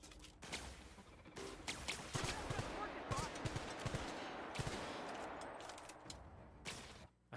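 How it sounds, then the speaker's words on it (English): Gunfire crackles through a firefight against robots in The Outer Worlds, with dense bursts of automatic shots running almost continuously at close range before dropping away near the end. "Ow, I'm getting shot in the back"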